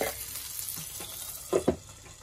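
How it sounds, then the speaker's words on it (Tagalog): Homemade beef burger patty frying gently in butter over low heat, a soft close sizzle with a couple of brief louder spatters near the end, no speech. "Igagaman ko siya dun sa may butter para malasa. Kailangan low fire lang."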